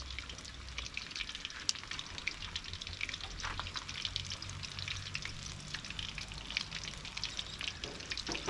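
Hare meat sizzles and crackles steadily in a hot pan for tacos, a close, continuous frying hiss with a few sharper pops and faint stirring, no one talking.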